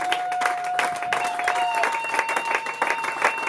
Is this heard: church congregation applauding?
yes